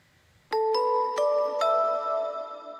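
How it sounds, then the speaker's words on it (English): Four bright bell tones in a produced music track strike in a quick rising sequence, each ringing clearly and sustaining as they overlap into a shimmering chord that slowly fades. "do you hear the bells that I'm talking about?"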